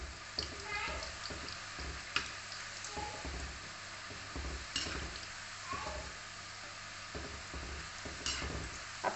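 Namkin khajur fries in hot oil over a low gas flame, giving a steady soft sizzle with scattered pops and stirring clinks, faint and close.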